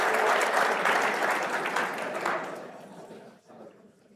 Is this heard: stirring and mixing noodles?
no